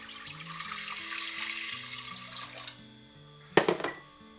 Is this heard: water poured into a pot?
yes